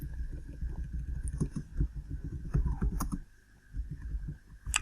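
Computer keyboard typing a terminal command in the VS Code editor, a quick close run of soft clicking keystrokes with a faint background hum and no talk.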